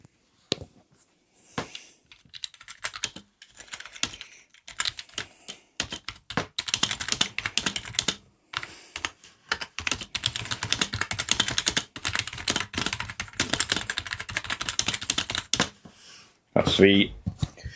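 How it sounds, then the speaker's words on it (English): Steady typing on a membrane keyboard, soft muffled keystrokes in dense rapid runs with brief pauses, close up and continuous. "you'll hear the difference when I'm typing on it"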